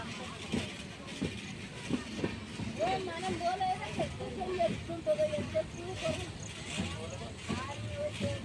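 Kagaznagar Express train rolling into platform 1 at Kazipet station: a steady low rumble with intermittent clanks and squealing wheel tones, heard alongside nearby voices.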